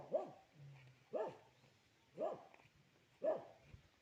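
A black dog barks four times at a steady pace, about once a second, fairly close, with a faint low hum between barks.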